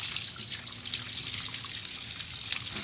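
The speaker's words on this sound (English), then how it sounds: "I'm running the rinse water into the tank and then just let it drain out the drain" Flax rinse water pours and drains into a tank outdoors, a steady close splashing trickle with continuous hiss and no talking.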